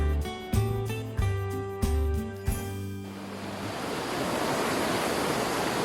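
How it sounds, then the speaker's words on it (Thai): Morning ambience at Phlio waterfall in a Thai national park after overnight rain: a few pitched tones open the scene, then a broad, steady rush of falling water takes over and holds for the rest. "บรรยากาศตอนเช้านะครับของน้ำตกพิ้วนะครับ"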